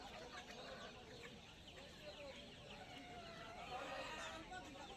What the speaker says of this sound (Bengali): সমস্ত ধরনের দেশি মুরগিগুলো এখানে দেখতে পাচ্ছেন